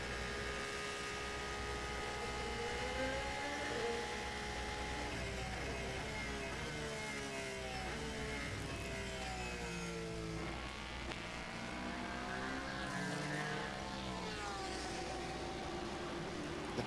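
Aston Martin and Porsche race cars in RaceRoom, a mid-engine Porsche among them, screaming loudly at high revs, with rising and falling engine tones overlapping as they accelerate, brake and downshift through corners.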